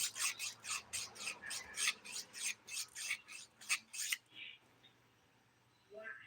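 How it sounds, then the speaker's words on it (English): A handheld nail file, 180 grit side, rasping across fingernails in a quick series of about a dozen close, scratchy strokes, then falling quiet with faint small sounds after. "now going in to the rest of the filing, my regular filing"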